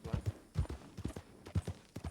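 Horse hooves clip-clop in the Fortnite video game, a quick uneven run of low thudding footfalls, close and fairly loud, with no talking over them.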